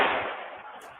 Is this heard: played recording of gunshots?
yes